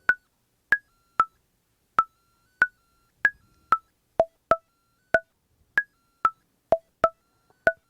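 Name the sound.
Nord Micro Modular synthesizer sequencer patch playing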